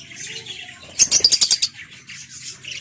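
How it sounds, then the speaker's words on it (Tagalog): African lovebirds chirping in an aviary, with high, rapid twittering calls throughout and a brief loud burst of sharp repeated chirps in the middle, close and clear. "Yan na lang po yung natira sa ating mga ibon."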